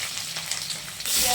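Whole garlic cloves drop into hot, splattering oil and fry with a dense, hissing sizzle that swells louder near the end of the short burst.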